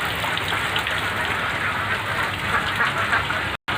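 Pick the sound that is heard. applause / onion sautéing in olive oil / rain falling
rain falling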